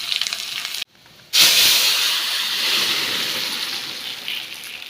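Crushed garlic dropped into hot oil already spluttering with mustard seeds, urad dal and dried red chillies, giving a sudden loud, steady sizzle after a brief pause that holds close and continuous.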